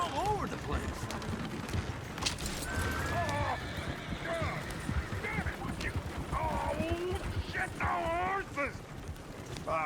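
Horses neigh and whinny several times over clip-clopping hooves and mechanical clatter in a Red Dead Redemption 2 train robbery scene, with people talking throughout.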